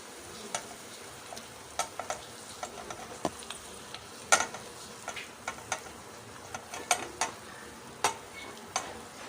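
Mashed potato being stirred into golden fried onions in a pan for aloo paratha filling, with a steady soft sizzle and repeated scraping clicks of the spoon at an irregular rhythm, close up and without talk.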